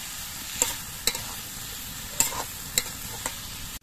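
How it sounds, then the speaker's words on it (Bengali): Fried jackfruit stirred with spices in a pan, a spatula knocking the metal five times at uneven intervals over a low continuous sizzle, close and moderately quiet with no voices. "এঁচোড় দিয়ে আর মশলা দিয়ে নেড়ে চেড়ে মিশিয়ে দিতে হবে।"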